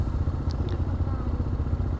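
Motorcycles, including a Transalp, wait to board a ferry in Norway, their engines idling in a low, steady throb with faint clatter around them and no talk.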